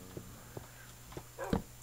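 Dogs in the survival game Lethamyr, with a few short yips and whimpers at spaced intervals under a steady low hum, ending in a slightly louder whine.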